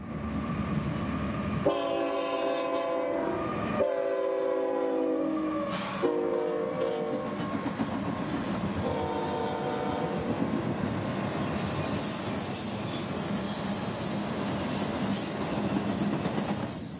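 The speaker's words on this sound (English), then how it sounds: "IO45, nightly intermodal service for Tampa, passing through Dade City around 10 p.m." An intermodal freight train bound for Tampa passes through Dade City at night and sounds several loud, long horn blasts. Heavy rumbling, rail clatter and wheel squeal follow close by as the cars roll past.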